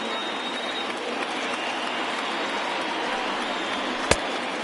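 A big stadium crowd in MLB The Show 20 roars steadily as fans rise to their feet, a dense continuous wall of cheering with one brief sharp knock near the end.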